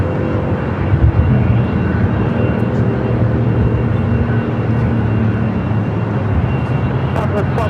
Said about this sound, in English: There she is, flight 457, heading back to Frankfurt, the 747A Intercontinental.